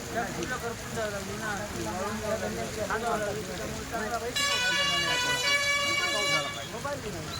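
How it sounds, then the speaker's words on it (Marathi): Steady heavy rain hisses throughout over farmland, with someone talking over it and a vehicle horn blaring in long tones toward the end. "आज मुसळधार पाऊस सुरू झाल्यामुळे"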